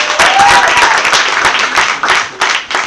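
Lively audience clapping at a youth empowerment show, loud and close with uneven bursts of individual claps and a brief voice near the start, rising and easing over a few seconds.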